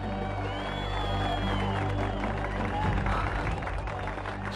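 An audience applauds in a French-dubbed cartoon about a magician, a steady wash of clapping and crowd noise under music for several seconds, with a voice speaking over it.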